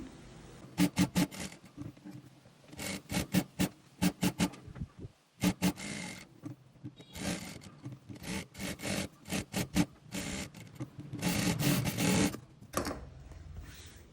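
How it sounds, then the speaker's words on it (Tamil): A sewing machine joins lining and saree blouse fabric at a quarter-inch seam, running in sharp bursts of rapid stitching broken by short pauses, close and fairly loud. "லைனிங் துணியையும் சாரி ப்ளவுஸ் துணியையும் வந்து சேர்த்து தைக்க போகிறேன்"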